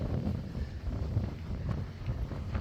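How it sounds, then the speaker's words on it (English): Steady wind in Vladivostok, Russia, near the Russky Bridge, buffets the microphone with a low, rumbling roar, continuous and fairly loud, with no voices. "It's so windy today"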